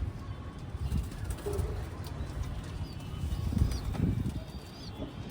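Pigeons, including a high-flyer breed, coo softly amid low rustling and outdoor background noise, with faint flapping and distant chirps.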